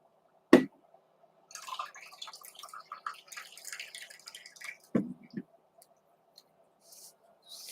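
Water is added into a bottle for tea, heard as a quiet sharp click, then a soft, brief dribbling splash and another click, close by in an otherwise quiet room.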